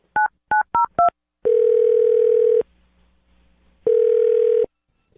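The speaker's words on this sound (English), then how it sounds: "I'm going to dial his phone number right now" Four quick touch-tone beeps of a telephone number being dialed, then a steady dial-style tone that stops, a pause, and the tone returning briefly; clear and close with no talking.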